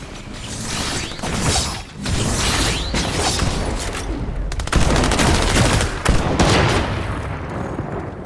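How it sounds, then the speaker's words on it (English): Rapid sniper gunfire and clattering weapon mechanics in a Fortnite trios match, dense and loud throughout with sharp cracks and bursts layered over continuous game noise. "We're getting sniped."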